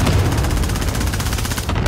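Sustained rapid automatic gunfire in Warzone, a dense loud stream of shots with bursts of booming impacts, close and continuous with no pauses.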